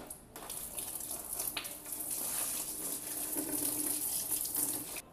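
Soapy water poured down for house cleaning, a continuous close splashing gush with hissy spatter that holds steady for several seconds and stops abruptly at the end.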